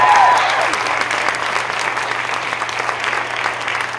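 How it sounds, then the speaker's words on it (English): An audience at a spring-semester dance showcase recital gives a big round of applause, loud and sustained, with many hands clapping steadily and a faint crowd murmur underneath. "One huge round of applause for Miss Jamina Hacker."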